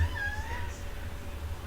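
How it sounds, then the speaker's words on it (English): A house cat meows once as it comes into a room during a paper quilling craft session, a single faint, drawn-out call over steady background hum. "And my cat came in."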